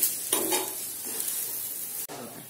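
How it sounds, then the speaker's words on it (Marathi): Moong dal and makhana chilla roasting on its second side in a pan, a steady soft sizzle with brief scraping stirs near the start and a sharp turn-like scrape near the end, no voices. "आता याची दुसरी साईडही छान आपण भाजून घेऊया"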